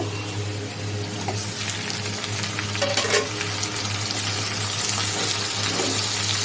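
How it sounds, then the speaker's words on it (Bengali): Prawns frying with onions in oil in a pan make a continuous bubbling sizzle, with scraping stirs and a low steady hum underneath. No one speaks. "আমি এই চিংড়ি মাছটা দিয়ে দিব চিংড়ি মাছটাও ভেজে নিব"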